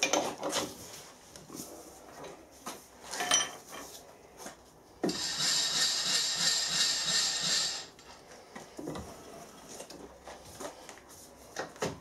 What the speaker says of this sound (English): the first thing I'll do is machine these two faces